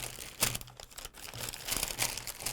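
Plastic bag from a Subway sandwich delivery order crinkling as it is handled, with bursts of dry, close rustling and crackling that swell and fade over a few seconds.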